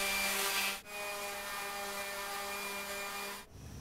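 A power sander doing finish prep on walnut table parts, its steady whine running about three seconds between a brief pause at the start and a stop near the end.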